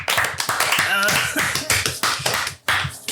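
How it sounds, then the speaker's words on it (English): A small group gives a quick round of hand clapping: sharp, close claps and taps mixed with voices chattering and cheering at the same time. "Round of applause."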